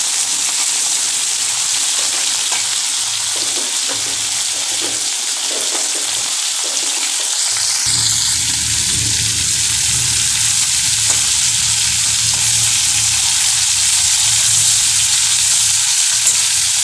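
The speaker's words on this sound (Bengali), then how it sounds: "মাছগুলোকে বেশি একটা ভাজবো না, হালকা করে ভেজে নিব" Bam fish (eel) lightly frying in oil, a steady close sizzle throughout that grows denser and louder partway through, with no talking.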